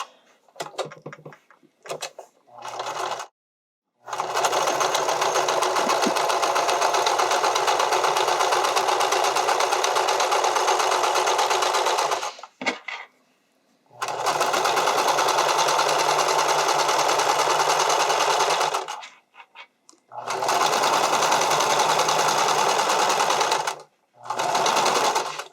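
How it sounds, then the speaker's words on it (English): Straight stitching an invisible zipper onto stretch fabric, a sewing machine runs in three long, steady bursts of close, even motor whir and needle clatter, separated by short pauses. "So I'm doing a straight stitch"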